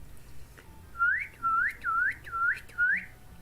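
A person whistles in imitation of bird calls, making five short rising chirps in an even rhythm, close and clear with no talking.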